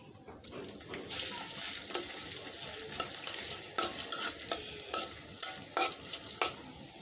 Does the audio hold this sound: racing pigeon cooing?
no